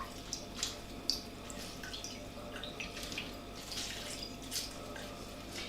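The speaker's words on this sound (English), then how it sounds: "we are now going to take our gelatine and squeeze the water out," Soaked gelatine squeezed by hand to press out excess water, for a traditional giant pork pie, giving faint close drips and wet trickles over a low steady kitchen hum.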